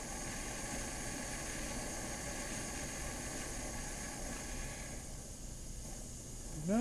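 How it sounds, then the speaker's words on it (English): A shop heater runs with a steady, broad whooshing roar and hiss that stays constant, then eases near the end. A brief voice cuts in right at the end. "The noise you're hearing is my shop heater kicking on."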